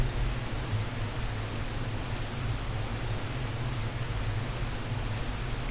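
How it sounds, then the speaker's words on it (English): Steady rain falls with a constant broadband hiss and a low rumbling undertone, unbroken throughout. "the sound of the rain"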